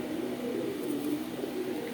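Quality deshi and Pakistani pigeons coo continuously in a dense, overlapping murmur, steady and moderately loud throughout.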